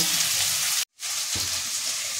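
Onion and capsicum fry in a pan with a bright, steady sizzle close by, broken once by a brief silent gap before the crackling hiss resumes.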